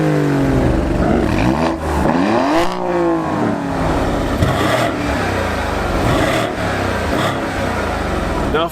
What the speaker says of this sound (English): and that is a rev battle.